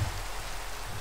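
Steady, dense rain falling in the video game Minecraft, an even wash of hiss with no break and no voices.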